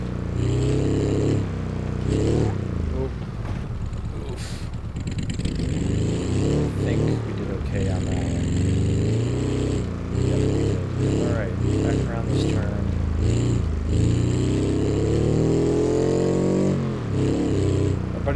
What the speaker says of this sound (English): Yep, engine is starved of oil. It's only a matter of time before it locks up.